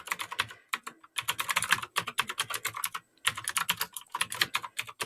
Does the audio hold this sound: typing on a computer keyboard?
yes